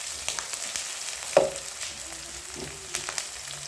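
Garlic ginger paste and a large tomato sizzle in oil with browned onions, a steady close frying hiss with a sharp spatter as they hit the pan.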